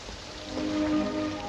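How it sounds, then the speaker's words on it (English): Steady rain falling outside an evening party in 1950s London, a soft continuous hiss with a faint low tonal hum beneath, no voices. "It's raining."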